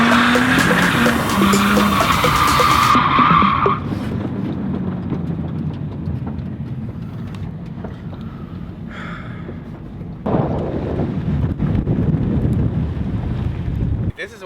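A car drifting at an Irish car meet lets out a loud, sustained tyre squeal with engine roar, then wind-buffeted rumble as it moves off, before a second surge of engine and skidding near the end.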